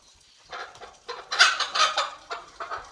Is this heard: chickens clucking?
yes